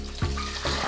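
Boiling water poured into porridge, a brief close splashing pour with two soft gushes, the second starting just past the midpoint, over a low steady background.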